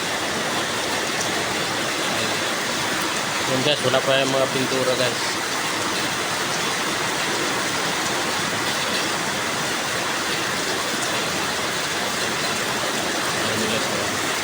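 Heavy rain pours down in a steady, dense roar alongside rushing flood water, continuous and loud throughout, with someone briefly speaking over it.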